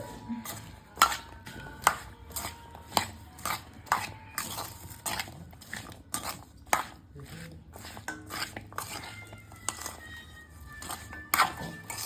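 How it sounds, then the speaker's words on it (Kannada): Chopped vegetables are mixed with masala for veg biryani, producing a sequence of sharp knocks and scraping clatters of a utensil against a metal dish, irregularly spaced and fairly close. "ಎಲ್ಲ ವೆಜಿಟೇಬಲ್ ಏನೇ ಹೆಚ್ಚಿಟ್ಕೊಂಡಿಲ್ಲ ಅದನ್ನೆಲ್ಲ ಮಿಕ್ಸ್ ಮಾಡತ್ತೇವಿ ನೋಡ್ರಿ. ಮಸ್ತಾಗಿ ಮಿಕ್ಸ್ ಮಾಡಕತ್ತಾರ."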